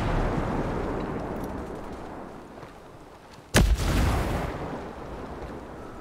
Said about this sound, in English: Oh god, mortars.